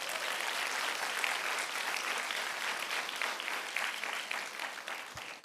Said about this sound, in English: So please give all of them a huge round of applause